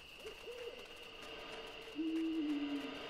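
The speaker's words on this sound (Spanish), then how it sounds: "Y un búho" An owl hoots in a video game about caring for cubs, two soft hoots early, then a louder, steadier hoot near the end over a faint ambient hum.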